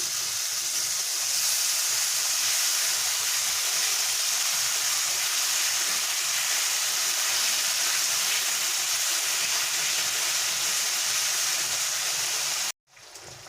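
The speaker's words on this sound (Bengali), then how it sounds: "এবারে যে মশলাটা আমি পেস্ট করে রেখেছিলাম পোস্ত আর সাদা সর্ষে কালো সর্ষে আর কাঁচা লঙ্কা ওটা দিয়ে দিলাম" A spice paste of poppy seed, white and black mustard and green chilli fries in a pan for a Bengali pabda fish dish, with a steady close sizzle lasting about twelve seconds before cutting off abruptly; no speech.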